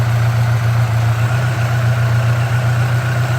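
A Honda Aero scooter engine idles roughly after a head gasket replacement, with oil and coolant mixing, giving a steady loud low drone with a faint uneven pulse, close up and with no talk.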